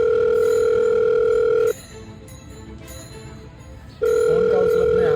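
Ringback tone of an outgoing phone call that nobody answers: a steady electronic purr sounds, stops for a couple of seconds, then starts again, close and clear.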